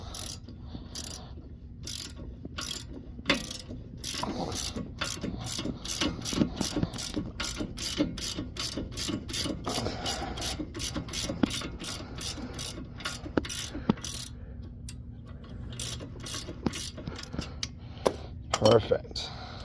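A ratchet wrench clicks in rapid repeated bursts while backing out the front strut bolts on a 2013 Hyundai Elantra, sharp metallic pawl ticks up close with short pauses between runs.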